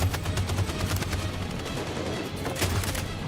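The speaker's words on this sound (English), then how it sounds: "That machine gun is taking down everything that moves." Rapid bursts of machine gun fire in a combat video game, dense overlapping shots rattling loudly and continuously with heavy booms underneath, no talk.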